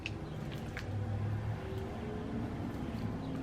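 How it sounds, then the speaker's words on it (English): Traffic of cars, buses and trucks rolls past outside an open window, a steady low rumble of passing vehicles that swells and fades slightly, heard from indoors with no talking. "I'm hearing all the cars and buses and trucks passing by"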